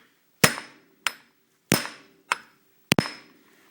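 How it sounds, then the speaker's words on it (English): Five sharp metallic hammer strikes at an uneven pace, each ringing briefly before fading, close and loud in a quiet space, as a front wheel bearing is hammered into a Polaris Sportsman ATV. "I'm not going to hammer any more than that on the camera"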